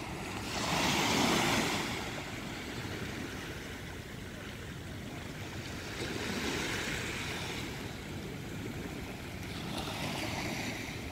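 Ocean waves washing ashore at Wollongong Beach at dusk with the tide coming in, a steady roaring surf that swells and recedes in broad surges, mixed with wind buffeting the microphone and no talking.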